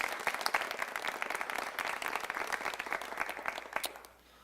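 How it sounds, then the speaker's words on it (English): A gathered audience at a Louisville city event on homelessness gives a councilman a round of applause, crisp clapping that stays fairly steady, then trails off quickly near the end. "Let's give him a round of applause."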